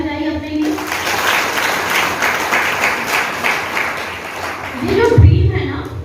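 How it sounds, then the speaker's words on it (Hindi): Audience clapping for themselves at a Patna training session venue, a spread of hand claps over a raised voice and a brief low thump near the end. "जोरदार ताली बजाइए अपने लिए।"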